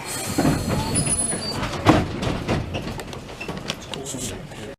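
Christchurch city tram 15 running on rails on its final night trip, with a loud steady rumble, clattering wheels and a high wheel squeal, heard from inside the car.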